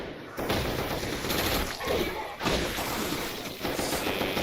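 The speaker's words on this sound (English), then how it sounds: "I threw a grenade." A grenade explodes in the shooter game Doom, with heavy booming blasts and rattling gunfire-like bursts that swell, drop out briefly and return loudly over several seconds.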